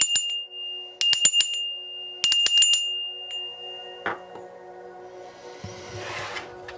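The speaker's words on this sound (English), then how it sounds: "I'm going to ring the bell 3 times." A meditation bell struck three times to clear negative energy, each strike a bright ringing tone with a long sustained decay, evenly spaced about a second apart, followed by quieter room noise and faint rustling.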